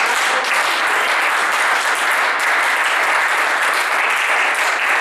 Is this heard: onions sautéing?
no